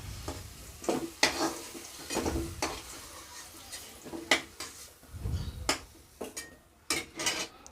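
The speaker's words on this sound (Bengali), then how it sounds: "আলুগুলোকে উল্টো পাল্টে একটু ভালোভাবে ভেজে নাও" Potato pieces fry in a wok for a Bengali sukta, with a spatula stirring them: repeated scraping and clattering strokes over a close, steady sizzle, with no talking.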